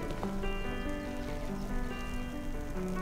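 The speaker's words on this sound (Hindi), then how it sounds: "बारिश होने वाली है" Steady rain patters softly and evenly throughout, with sustained musical tones layered over the downpour and no talking.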